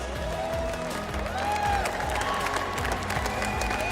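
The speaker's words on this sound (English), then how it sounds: "Come on, guys, a huge round of applause." Crowd applause and cheering break out for the tournament MVP at the grand finale of an esports LAN event, iQOO Battleground Series 2025, steady and full under loud music from the hall.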